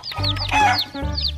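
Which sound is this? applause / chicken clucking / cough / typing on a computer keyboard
chicken clucking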